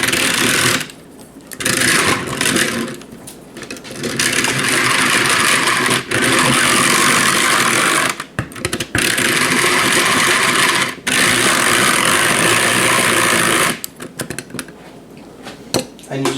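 A hand-cranked egg beater whisks about one and a half cups of whole grass-fed milk, giving a close, loud mechanical whirring rattle in long bursts broken by short pauses.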